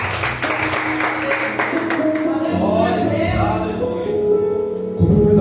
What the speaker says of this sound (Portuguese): receba o servo do Senhor com palmas